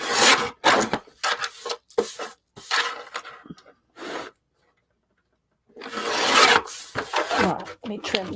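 A paper cutter slicing through printed collage images: a series of close, sharp rasping cuts in quick bursts, a brief pause, then another loud run of cutting strokes.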